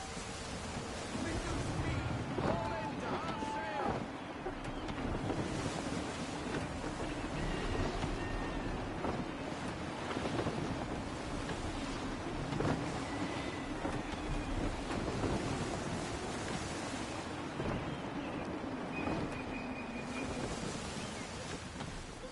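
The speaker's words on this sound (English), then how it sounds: "Gusty winds can be difficult to manage." Wind gusts roar steadily at sea in Assassin's Creed 3 Remastered, a broad, rushing noise layered with surf and creaking from a ship, with voices speaking over it.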